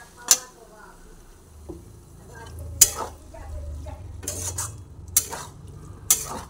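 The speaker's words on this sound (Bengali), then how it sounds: "জলটা দিয়ে এবার একটু ভালোভাবে নাড়াচাড়া করে দিই।" Onion and poppy seed paste being stirred with a little water in a pan, with several sharp spoon scrapes and clinks against the metal over a low sizzle.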